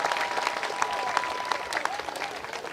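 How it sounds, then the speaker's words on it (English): Audience applause at a statue ceremony honoring a basketball coach, a brief stretch of scattered clapping with sharp individual claps over crowd murmur and a faint tonal whine, moderately loud throughout. "Let's clap it up for her again as well."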